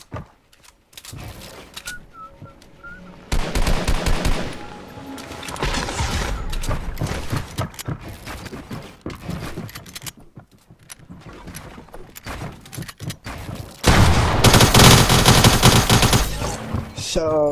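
SMG gunfire in Fortnite, loud rapid bursts of automatic fire in long sustained stretches over continuous game sound.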